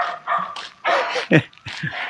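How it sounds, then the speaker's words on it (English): Several dogs bark in short, loud bursts with irregular gaps, some yips mixed in, fairly close by. "You can hear dogs barking."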